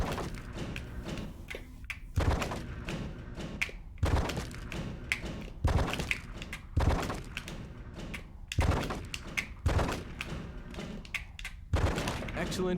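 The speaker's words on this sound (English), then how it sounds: "Excellent shooting, John." Repeated sharp gunshots in the video game Die Hard: Vendetta, a dozen or so irregular cracks with thudding low ends over steady game background noise and talk.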